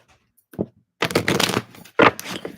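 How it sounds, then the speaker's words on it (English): A deck of tarot cards is shuffled at close range: a short riffle, then a longer flurry of rapid card flutters and a final sharp burst, with no one speaking. "I shuffled the deck because I got the same card from a reading that I did earlier"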